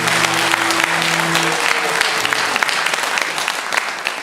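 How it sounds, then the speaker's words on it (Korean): Congregation applauding together during a Sunday morning church service, a dense steady burst of clapping that carries on evenly for several seconds while a sustained organ or keyboard chord fades out underneath. "박수로 우리 한번 하면"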